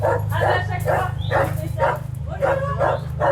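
A pet dog at home barks in a steady run of sharp, mid-loud yips and woofs against a low hum, with faint talk mixed in.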